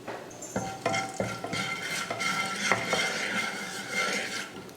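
Eggs fry in hot oil with salt and turmeric in a pan, a close sizzle with repeated clinks and scrapes of a spatula stirring.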